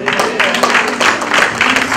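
Congregation clapping at a church service led by a prophet, loud bursts of applause that rise and fall across two seconds, with voices mixed in.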